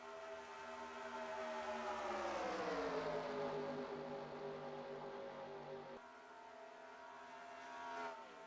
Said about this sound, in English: I'm hearing an idling engine up ahead.